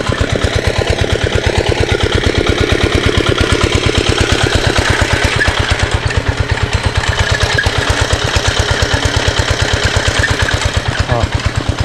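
A water pump's engine runs steadily to drain floodwater during nonstop rain, its rapid, even chugging loud and close, with people talking over it.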